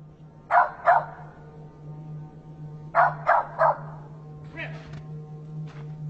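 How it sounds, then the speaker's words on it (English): A frightened dog barks from a middle distance, first two quick barks, then a pause and a tight burst of three, followed by a couple of softer yips over a steady low hum. "the dog seems to be apprehensive and kind of scared. It doesn't seem to be wagging its tail anymore, and it's barking like a scared dog would"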